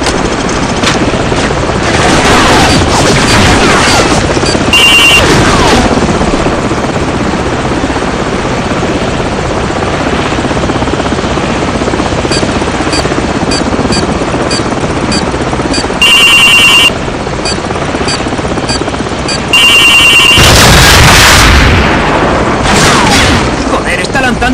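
In Call of Duty 4: Modern Warfare, a helicopter's rotor roars continuously overhead while bursts of gunfire and heavy booms crash in, with intermittent electronic beeping tones cutting through the loud battle.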